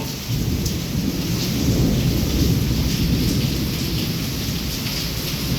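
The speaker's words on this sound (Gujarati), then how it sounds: "સતત વીજળી ચાલુ છે વરસાદ ચાલુ છે પવન ચાલુ છે" Heavy, steady rain pours down with wind during a thunderstorm in Wankaner, a dense, constant roar of hard rainfall and rumbling that holds loud and unbroken throughout, with no voices.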